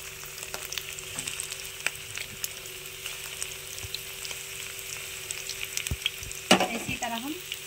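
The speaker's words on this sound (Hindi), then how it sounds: "तो देखिए हमारा तेल गर्म हो गया, इसको हम डाल देते हैं इस तरह से।" Mutton cheese kebabs fry in hot oil on low heat, giving a faint, steady crackling sizzle throughout, with a louder clatter of a utensil near the end; no voices.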